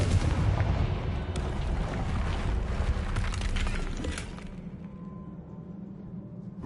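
Confringo spell explosion in Hogwarts Legacy: a loud, close blast with a crackling, rumbling burst that decays over a few seconds into a quieter low hum.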